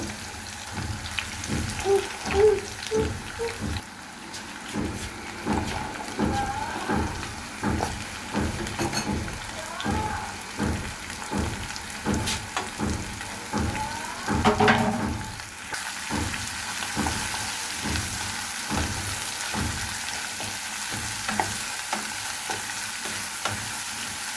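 Chopped onion frying with chicken pieces in a pan, a steady loud sizzle broken by repeated stirring and scraping strokes, with one sharp clatter midway and no talk.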